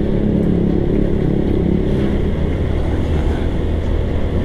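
A motorcycle with a loud popping exhaust rides close on a road between Bandung and Purwakarta, its engine a constant heavy drone with a low rumble throughout and no voices.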